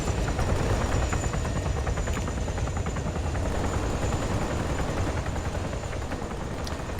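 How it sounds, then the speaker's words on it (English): Helicopter in an ARMA 3 player-versus-player hostage mission, a steady rotor thrum with a dense low drone holding loud and close throughout, with no talk over it. "The other heli is coming in though, look, he's chasing him."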